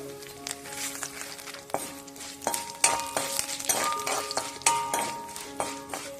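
Green fenugreek leaves frying in a pan with curry leaves for date pickle, with soft sizzling under repeated metallic clinks and scrapes of a spoon against the pan.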